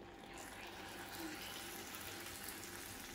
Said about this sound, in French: Alors là j'ai arrosé, je vais attendre qu'il absorbe, ensuite je vais continuer à arroser avec le sirop.